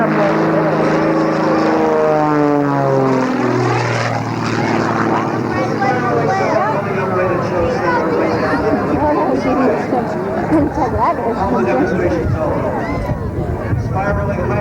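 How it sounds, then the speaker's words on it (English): Propeller aerobatic airplane with a 360-horsepower engine doing snap rolls at a 1994 air show, its loud droning roar sweeping in pitch as it passes, while an announcer talks over it and a crowd murmurs. "What a great picture of that aircraft as it snap rolls and snap rolls."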